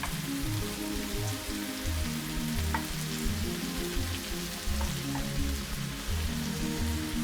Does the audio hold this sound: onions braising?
yes